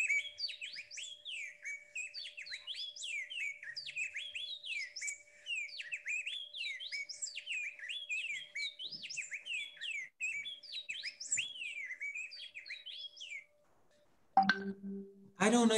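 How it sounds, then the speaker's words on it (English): A recording of an Inca wren, a bamboo-dwelling bird endemic to Machu Picchu, sings a rapid, continuous series of chirping, warbling phrases, clear and steady, ending abruptly before a brief burst of other sound. "It's a bird, an endemic bird that is only in bamboo areas."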